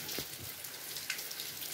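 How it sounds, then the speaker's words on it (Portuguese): Steady rain falls in Santa Cruz, Rio Grande do Norte, a soft continuous hiss of drops with a few closer patters on a surface. "Chuva aqui em Santa Cruz,"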